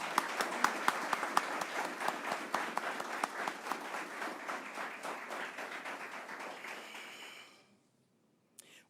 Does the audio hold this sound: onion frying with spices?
no